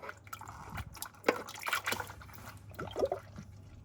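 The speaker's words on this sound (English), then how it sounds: "that's just draining down that's the oil out of that" Engine oil drains from the filter housing of a Lexus IS250 during a home service, with close drips and trickles of thin liquid, irregular and quiet, and a few louder splashes.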